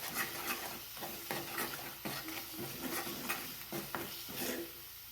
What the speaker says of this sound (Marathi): आता हे छान मिक्स करून घ्या. म्हणजे यात आपण घातलेली सर्व हळदी, मीठ हे काळं वाटण चांगलं भाजलं पाहिजे.